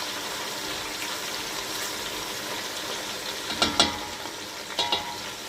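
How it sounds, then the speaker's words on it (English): Onion simmering in hot oil for a Cameroonian kondre, a continuous crackling sizzle with a couple of short louder bursts near the end, as if the pan is being stirred, and no voices. "I'll let my onion to simmer for a little bit. The oil was quite hot"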